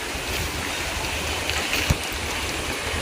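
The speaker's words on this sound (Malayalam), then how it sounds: "കണ്ടോ. തോട്ടിൽ നോക്കി വെള്ളം" Water running along a roadside ditch-like stream on a farm, a steady broadband rush close by with one brief knock partway through, no voices.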